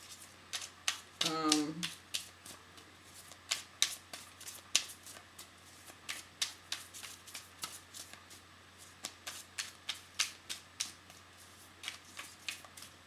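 Tarot cards being shuffled, drawn and handled in a reading, with a quick riffle early on and then a steady run of crisp close snaps, slaps and flicks of card stock.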